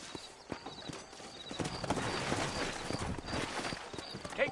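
Horses' hooves clip-clop steadily in a Western video game set in New Austin, a dense run of close hoofbeats over continuous outdoor ambience, with a faint whinny near the end.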